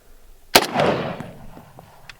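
A single loud gunshot from a Springfield Armory SOCOM 16 .308 rifle with a fiberglass stock and muzzle brake is fired outdoors, a sharp crack followed by a rolling echo that fades over a second or so.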